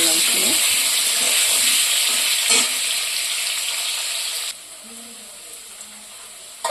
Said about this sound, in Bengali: আলুগুলো ভেজে নেবো লাল লাল করে।